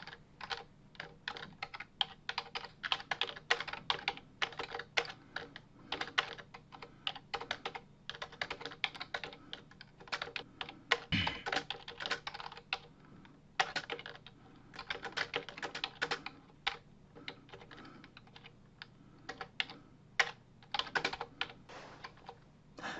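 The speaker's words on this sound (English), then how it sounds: "And I will start talking again after I've gotten this thing typed in." Steady computer keyboard typing as code is entered, bursts of quick keystrokes with short pauses, close and clear, no voices.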